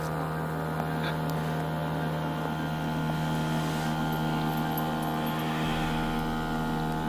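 A small boat's outboard motor drones steadily on a small river, a constant harmonic hum that shifts pitch near the end, with light wind noise and no talk.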